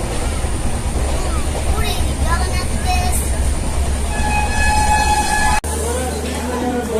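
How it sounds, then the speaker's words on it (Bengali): The Jagannath Express pulls into Kharagpur Junction with a heavy rumble and rolling rail noise, high squealing brake tones rising near the end before an abrupt drop, and voices murmuring in the background. "আমাদের ট্রেন এখন এসে পৌঁছেছে তার যাত্রাপথের গুরুত্বপূর্ণ হল স্টেশন খড়গপুর জাংশনে"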